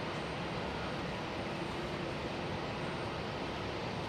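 Jet airliner with CFM engines at Hamburg Airport, a steady broadband roar that stays loud and unbroken throughout, with no voices.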